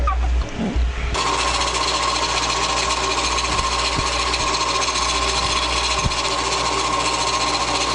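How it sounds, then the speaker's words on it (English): A drill press runs at high speed with high-speed steel bits drilling a composite pen blank, a loud steady whine with grinding as the bit bites, starting after a brief quieter moment and continuing throughout. "Drilling at high speed here. We got high-speed drill bits, no point in messing around."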